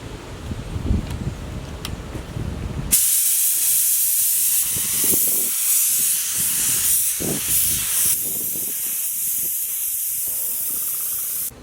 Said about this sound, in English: I'm laying a base coat of silver.